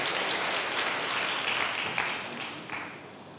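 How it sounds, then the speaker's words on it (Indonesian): A church congregation at a worship service breaks into loud, sustained applause that fills the room, gradually tapering toward the end with a few louder individual claps. "Berikan tepuk tangan yang meriah buat Tuhan."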